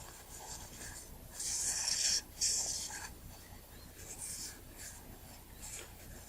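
Soft, close scratchy rubbing as a Nikon Nikkor 50mm f/1.8 Ai-s camera lens is wiped clean, in a few short bursts with one stronger stretch midway, all fairly quiet.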